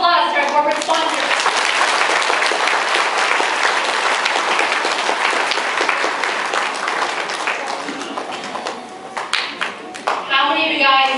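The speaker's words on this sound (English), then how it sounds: "Let's give a round of applause to our corporate sponsors." An audience at a MathFun event applauds its corporate sponsors, a loud, continuous wash of many hands clapping for several seconds that thins out near the end as a voice speaks over it.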